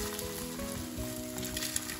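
Beaten egg seasoned with salt and pepper hits hot oil for egg fried rice, giving a steady, close sizzle that holds evenly throughout with a faint background hum.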